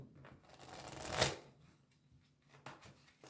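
A deck of cards is shuffled and cut close by, a quick riffle building to one sharp rustling burst, then a few light taps and slides of the cards.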